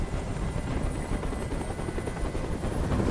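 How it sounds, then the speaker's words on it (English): A helicopter flies overhead, its rotor a loud, steady low-pitched throb with a constant whine on top, heard alone and unbroken throughout. "Tell that helicopter to get out of here!"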